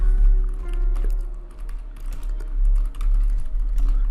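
Rapid, close keystrokes clatter on a computer keyboard in quick irregular bursts over a low background rumble.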